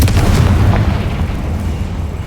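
A Confringo spell blast in the game Hogwarts Legacy, a loud, close, rumbling explosion that hits at once and fades over about two seconds.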